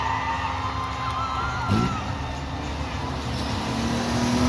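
A crowd cheers and shouts at a tuff trucks event, mixed with the steady roar of a truck engine nearby, continuous throughout.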